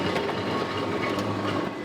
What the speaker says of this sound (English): Enter tram number 1.